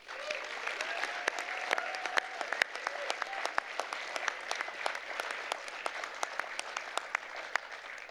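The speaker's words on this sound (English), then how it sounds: "a special round of applause" An audience applauds steadily at an event, dense clapping filling the room, with sharp individual claps popping out near the microphone throughout.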